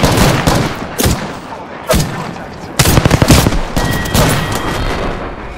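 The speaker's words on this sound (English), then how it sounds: "You're firing already." Gunfire in Apex Legends comes as loud bursts of rapid automatic shots in clustered volleys separated by brief pauses, close and punchy.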